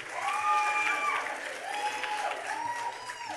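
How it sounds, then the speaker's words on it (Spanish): A studio audience applauds a guest named Omar Vázquez with steady, fairly faint clapping and crowd noise, while voices talk over it. "Fuerte el aplauso para Omar Vázquez, banda."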